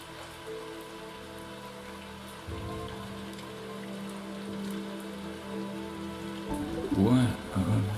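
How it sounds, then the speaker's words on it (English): Rain in a narrative video game, a steady soft patter of drops on surfaces with low tonal ambience beneath, growing slightly denser near the end where a voice briefly speaks. "And this rain is something else."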